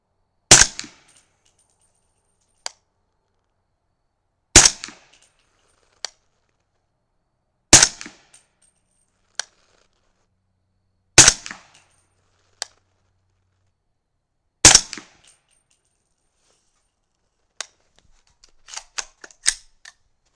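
Five sharp gunshots from handloaded cartridges using Winchester 296 powder ring out a few seconds apart outdoors, each loud and abrupt with a brief decay, followed by smaller metallic clicks of reloading.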